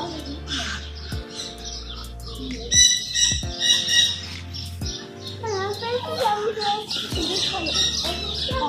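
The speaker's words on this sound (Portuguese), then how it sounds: "Tem muita arara, né?" Macaws squawking at the Quinzinho de Barros zoo in Sorocaba, loud harsh calls repeating in bursts over several seconds, with other birds chirping and a voice in the background.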